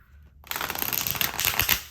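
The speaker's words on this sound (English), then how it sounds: "you gotta have real grip strength to shuffle a deck like this" A deck of playing cards being shuffled: after a brief quiet start, a dense, crisp run of riffling card flutter rises and continues to the end, close and fairly loud, with no talking.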